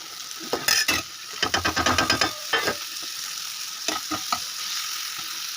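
Green chillies, tomatoes, garlic, cumin and coriander fry in a pan under a steady sizzle, with bursts of rapid, clattering stirring strokes scraping the pan.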